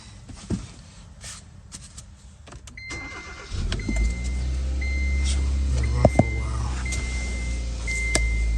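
A Kia Forte with a no-start fault cranks briefly after a few clicks and thumps, then its engine catches and settles into a steady idle, close and fairly loud, with warning chimes beeping over it.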